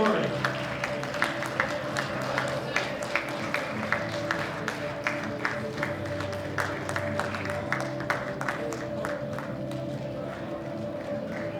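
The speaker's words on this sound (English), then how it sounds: "give another round of applause to the 93 kilogram Masters 1 category." Applause from the audience at a weightlifting competition for the Masters 1, 93 kg category: a dense, steady wash of many hands clapping that lasts the whole stretch, with crowd noise mixed in.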